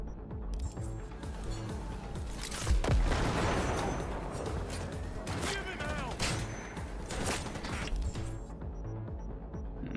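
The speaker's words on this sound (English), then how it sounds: "Let us see what the rocket launcher can do again." A rocket launcher fires in Cyberpunk 2077 during a fight against MaxTac, heavy blasts and a booming explosion punctuating dense combat noise, with further loud impacts spread across the fight.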